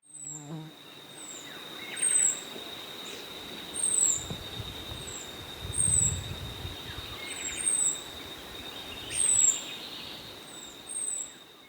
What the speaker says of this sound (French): Oui, ce cri-là, il est pratiquement identique à celui du merle, un sifflement aigu